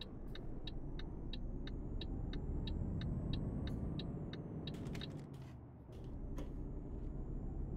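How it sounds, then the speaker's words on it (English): A Volvo truck engine in Euro Truck Simulator 2 drones steadily from the cab, a low rumble that dips briefly and recovers, with regular ticking clicks above it and no voices. "Ah, the Volvo sounds so nice."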